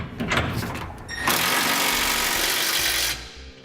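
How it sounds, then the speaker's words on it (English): A 3/4 inch socket on a ratchet or power driver snugging 1/2 inch bolts and nuts while mounting a Curt trailer hitch receiver on a 2018 Ram 1500: brief clicking, then a loud, sustained close whirring burst of about two seconds. "I'm going to come back with a 3/4 inch socket and snug them all up"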